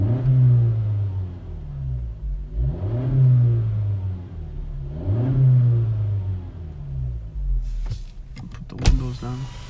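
A 2017 Honda Civic Hatchback engine with a Mishimoto air intake revs up and settles in repeated swells, heard from inside the cabin with windows up, followed by a few sharp mechanical clunks near the end.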